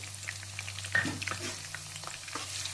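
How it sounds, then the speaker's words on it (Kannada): Sliced onions dropped into hot oil in a pan crackle and sizzle steadily at low volume, with scattered sharp pops and a faint steady hum underneath. "ಎಣ್ಣೆ ಕಾದಿದ ನಂತರ ಒಂದು ಕಟ್ ಮಾಡಿಕೊಂಡ್ರೆ ಈರುಳ್ಳಿ ಹಾಕ್ಕೊಳ್ಳಿ"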